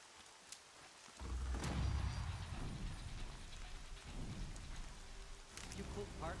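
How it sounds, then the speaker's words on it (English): Rain pours steadily, with rolling thunder rumbling in beneath it, in a stormy scene from the video game Horizon; the downpour swells in after a quiet start and stays dense and fairly faint. "Rain's not so bad."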